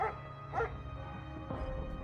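A dog in a hidden object detective game gives two or three short, soft yips and barks, faint and spaced apart over a quiet hum.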